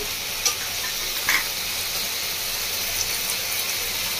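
Cumin powder goes into ginger frying in oil for a village-style bhindi masala, giving a steady close sizzle with a few light clicks from stirring, no talking.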